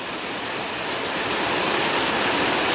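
Heavy downpour during a cricket game in the Konkan region, a steady dense hiss of rain filling the whole clip at constant loudness with no voices.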